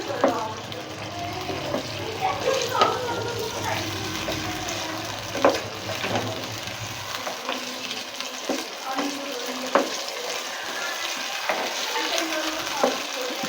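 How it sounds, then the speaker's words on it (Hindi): Chicken korma with yogurt sizzles over high heat as a spoon stirs it continuously, giving close frying hiss and scraping clinks, with a low rumble fading out partway through. "अच्छी तरह बस मुसलसल चलाते रहें इसे, तकरीबन तेज़ आंच पे 5 मिनट तक"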